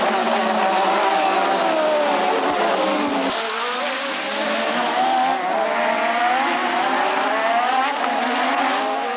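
Formula 1 race cars scream past at the Detroit Grand Prix street circuit, a loud, sustained high-revving engine wail with shifting pitch and faint tire squeal, with no voices over it.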